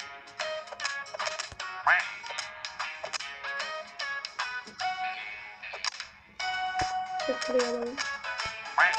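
A cartoonish duck quacks repeatedly amid a busy duck-battle video game soundtrack, with bright chiming effects and someone talking over the noise.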